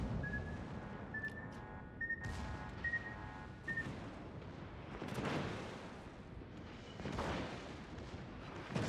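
Deep booming salvos from a Japanese Azuma cruiser's guns in World of Warships, a couple of heavy blasts rolling out over a continuous rumbling naval battle backdrop.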